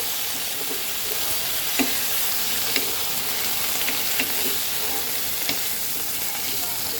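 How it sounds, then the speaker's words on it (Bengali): Vegetables and spices frying in a pan with a little water while being stirred, a steady close sizzle with scattered scraping taps of the spoon, for a Bengali fish curry with water spinach stems and potato. "এবার একটু নেড়ে দেবো"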